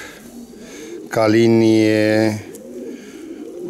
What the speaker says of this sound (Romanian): Da, e o porumbiță frumoasă.